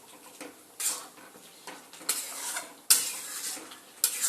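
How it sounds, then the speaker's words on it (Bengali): A spoon stirs sugar into thick Bengali jute-leaf dal in a metal pot, giving several sharp scraping clinks against the pot at irregular intervals, close by with no talk. "চিনিটা দিয়েও ঠিক একইভাবে নাড়িয়ে চাড়িয়ে নেব।"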